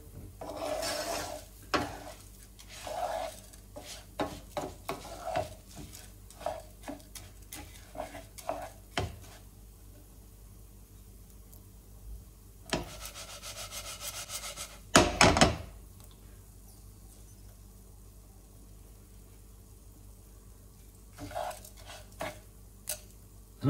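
Rice being stirred in hot oil in a pot for a seafood risotto, with a spoon scraping and clacking against the pan in irregular bursts over a faint sizzle.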